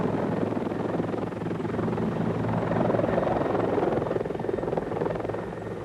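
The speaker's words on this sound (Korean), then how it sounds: "예거 대원들은 이상적인 침투용 항공기로서 헬리콥터를 사용합니다" Military helicopter of the type flown low by Norwegian Jäger special forces for insertion; a steady, loud rotor-and-engine roar holds throughout with no break.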